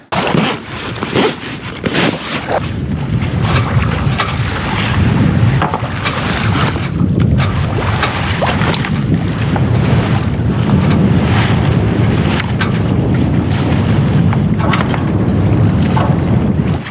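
Strong wind buffets the microphone aboard a sailboat heading into the wind off Norfolk, a loud continuous roar with gusty thumps and the wash of water underneath.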